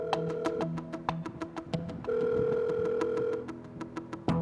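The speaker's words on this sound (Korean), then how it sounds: "떴다방이 건네준 명함의 전화번호로 연락해봤습니다" Telephone ringback tone on an outgoing call to a number from a real-estate broker's business card: repeated short electronic tone bursts and a longer steady tone in the middle, clear and close, with no talking.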